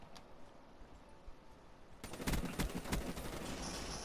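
Assault rifle gunfire in Black Ops 3: after a quiet stretch, a rapid volley of loud shots bursts out and continues in fast, uneven bursts.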